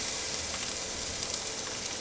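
Garlic goes into a pan of onions that have been cooking and lightly salted, producing a steady, dense, close sizzle with crackling spatter and no other sounds.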